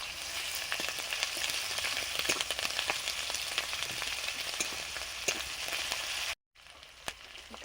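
Ginger garlic paste fries in hot oil for a katla kalia fish curry, a steady dense sizzle with crackling pops all the way through, breaking off briefly near the end before resuming.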